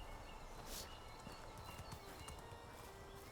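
Horse hooves clip-clopping in the medieval survival game Medieval Dynasty, a steady run of soft hoofbeats heard fairly close over a constant outdoor ambience, with no talking.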